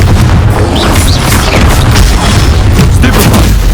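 Confringo explosive spell blast in Hogwarts Legacy, a loud, close, booming burst with heavy low rumble that stays dense and continuous for a few seconds.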